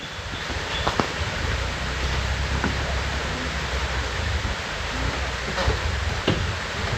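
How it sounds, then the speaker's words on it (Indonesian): Rain falling over a field of curly red chili plants, a steady broadband hiss throughout with a few faint scattered ticks and drips, no talk. "Balik hujan."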